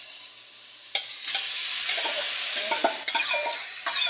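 Vegetables for Ilocano-style pinakbet, with tomatoes, onions, garlic and ginger, being stirred in a Saladmaster 5-quart wok, a steady sizzle with intermittent scraping clanks of the utensil against the pan; a voice briefly speaks.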